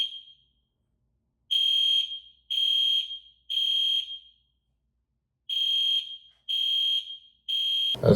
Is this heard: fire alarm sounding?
yes